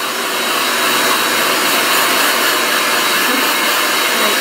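Hair dryer blowing hair during an at-home blowout, a loud, steady, close whooshing roar of air that runs unbroken from start to finish.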